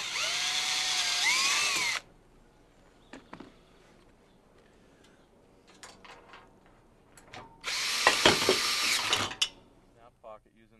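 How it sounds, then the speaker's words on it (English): Power drill driving screws at an angle through a wooden shear block on a stair installation, two loud whining bursts of about two seconds each, with light handling clicks and knocks in the quiet gap between. "Using the pilot holes, drill through the shear block at an angle and screw together."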